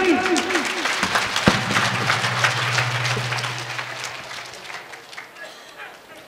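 A crowd at a Hindu religious discourse bursts into clapping, loud at first and tapering off over several seconds, mixed with other crowd noise and a faint steady tone.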